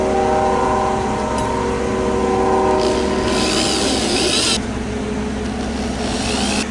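A passing train, heard from a porch, rolls by loudly, a long tonal horn droning over continuous rail rumble, then wheel noise carries on after it fades.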